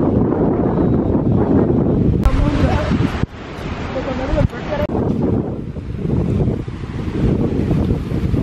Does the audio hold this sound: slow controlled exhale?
no